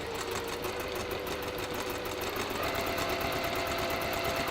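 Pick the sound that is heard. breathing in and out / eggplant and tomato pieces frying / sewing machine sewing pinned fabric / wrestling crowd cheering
sewing machine sewing pinned fabric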